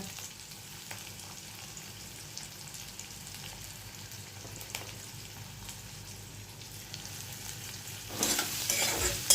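Chopped onion frying in a pan for veg Manchurian, a steady low sizzle with faint stirring scrapes, swelling into a louder hiss near the end.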